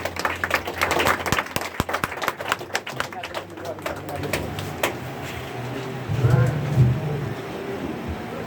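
An audience at a conference claps for a speaker, a scattered burst of applause that thins out after a few seconds. Voices talk throughout.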